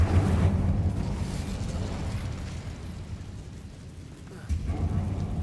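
A fire spell cast in Hogwarts Legacy bursts into a rushing, roaring blaze that holds steady, then flares again near the end, with someone speaking over it.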